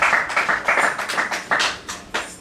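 A church congregation claps together in a quick, fairly even rhythm for a few seconds, the claps close and bright with no talking over them.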